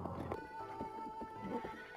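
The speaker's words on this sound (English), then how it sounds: "I can't even stop my horse." A horse in a video game whinnies loudly while its hooves clip-clop in a quick, steady rhythm, close and clear with no talking over it.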